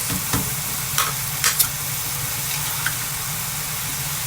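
Tomato sauce goes into a hot frying pan with a steady sizzle and a few sharp stirring scrapes and clinks near the mic, no voices.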